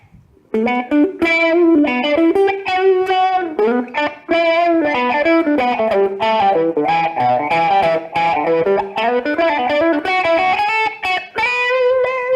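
An electric guitar played through a T-Rex Yoy-Yoy effects pedal plays a loud, continuous melodic phrase of sustained, rich-toned notes with a warbling filtered character, after a brief silent start.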